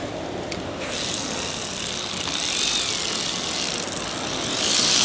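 A ratchet torque wrench clicks while tightening a bolt on a car brake during a repair of a pedal sinking to the floor, its mechanical ratcheting close and steady over a broad workshop hiss.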